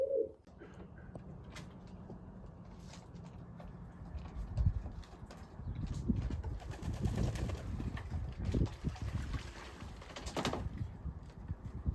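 Pigeons coo and shuffle inside a loft of male birds, soft repeated cooing with scratchy footsteps and wing flutters building through the middle, close and moderately loud, no talking.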